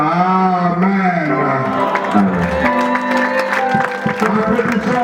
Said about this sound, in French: Applaudissons pour le roi des rois et la Seigneur des Seigneurs.